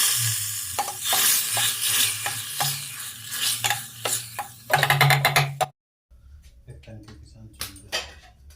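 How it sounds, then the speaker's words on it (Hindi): Cumin seeds sizzle and crackle loudly in hot ghee while a spoon stirs and scrapes the pan, then the sizzling drops away to quieter clinks. "इसमें लगा देंगे तड़का जीरे और घी से"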